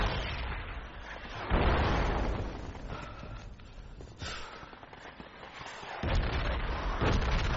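Mortar and artillery fire in the military game Project Reality, heavy booming blasts that land loud amid a continuous rumbling roar of battle, with renewed impacts partway through.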